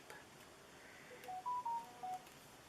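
A short, quiet notification chime from a mobile phone plays as a few quick tonal beeps in a rising and falling pattern over a faint room background.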